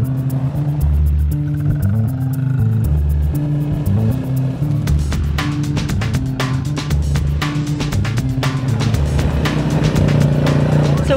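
A car hums along steadily with a continuous low engine drone and road rumble, heard from inside at moderate loudness, with faint clattering bumps later on and no clear talking.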